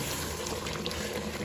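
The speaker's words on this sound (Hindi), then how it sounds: "इसमें डाल देते हैं थोड़ा सा पानी, तकरीबन एक कप मैंने पानी इसमें डाल दिया है।" Water is poured into masala sizzling in a cooking pot for chicken korma, giving a soft, steady bubbling hiss that stays faint and even throughout.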